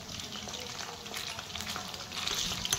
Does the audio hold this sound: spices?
yes